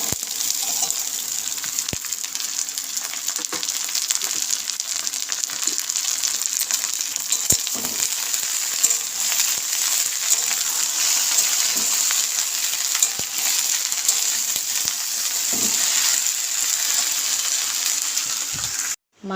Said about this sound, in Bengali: পেঁয়াজগুলো আমার ভাজা হয়ে গিয়েছে হালকা করে, এবার আমি সব সবজিগুলো ঢেলে দেব